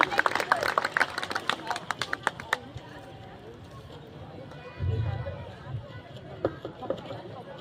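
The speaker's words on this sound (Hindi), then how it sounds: "आइए, वेरी गुड, जोरदार तालियां बजाओ ये बच्ची के लिए।" Crowd clapping at a tribal culture Satrangi flag day gathering in Mundara, Seoni district, a dense burst of hand claps that fades within about three seconds into quieter murmuring and background voices.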